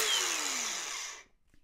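A DeWalt cordless angle grinder spins at full speed, then its motor winds down with a falling whine during a braking test. The close, steady whir lasts about a second before it cuts off into quiet.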